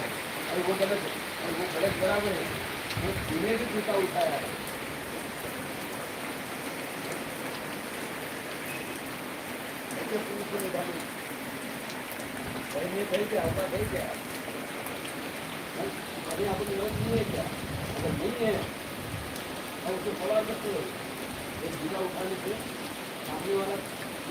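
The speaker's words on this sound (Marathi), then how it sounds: "पाऊस कमी झालेला आहे" Steady rain pours down in a continuous hiss, with muffled voices breaking through now and then.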